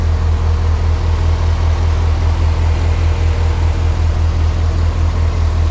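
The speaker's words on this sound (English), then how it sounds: "Chevy engine." A 2008 GMC Sierra 1500 SLE1 pickup with a Chevy engine, aftermarket shorty headers and a Cannon intake idles steadily, a loud, close, even low rumble with no pauses or voices.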